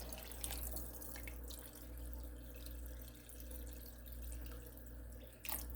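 Water pours steadily into a pot of deer chili on the stove, a continuous soft splashing stream with low background hum and a couple of small clinks.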